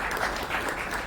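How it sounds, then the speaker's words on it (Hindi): Brief burst of crowd applause for a kabaddi player being introduced at a team event with Puneri Paltan, dense clapping filling the short moment. "एक बार इनके लिए भी जोरदार तालियां"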